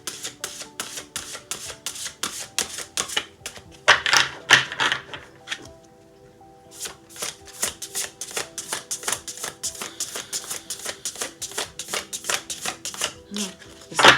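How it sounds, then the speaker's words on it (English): A deck of oracle cards is shuffled close up in quick rhythmic riffles and snaps, pausing briefly before the shuffling resumes at the same brisk pace. "Shuffle one more time."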